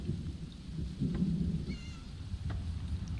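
A cat meows faintly in The Elder Scrolls Online, a short rising and falling call about midway through, set against a steady low rumbling game ambience.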